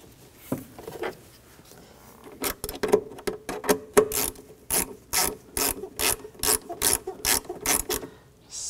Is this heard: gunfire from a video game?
no